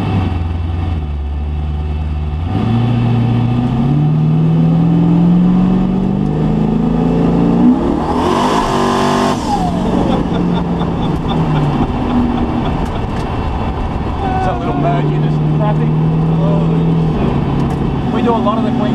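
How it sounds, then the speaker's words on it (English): A street car with an RB30 engine cruising at about 40 km/h in traffic, a steady low engine drone with gear changes and brief revs, a passing whoosh midway, under ongoing talk. "we're cruising along at 40 k's an hour in traffic"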